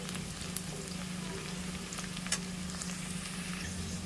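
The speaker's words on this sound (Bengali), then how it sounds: "পেঁয়াজগুলো মিডিয়াম ফ্লেমে ভেজে নেব," Chopped onions fry with cumin in a pan over medium flame, giving a steady close sizzle with scattered faint crackles and pops throughout.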